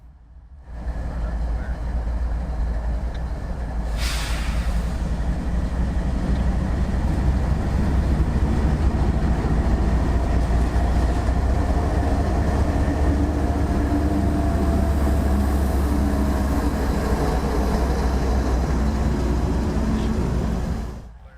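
CSX locomotive 1871, in ACL heritage paint, backs up along the track with a steady low diesel drone and rolling rumble that holds for about twenty seconds, moderately loud and distant, with a brief hiss early on.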